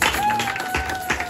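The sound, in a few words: congregation applauding during a worship service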